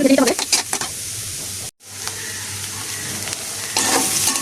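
Oil sizzles steadily as potatoes fry in a pan, broken by stirring scrapes and one brief silent gap before the frying noise carries on.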